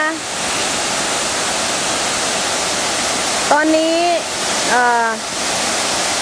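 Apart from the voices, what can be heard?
waterfall flowing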